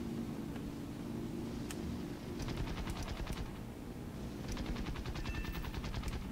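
Rapid machine-gun fire from an enemy tank in the War Thunder tank battle game, several bursts of fast rattling shots over a constant loud engine rumble and static-like noise.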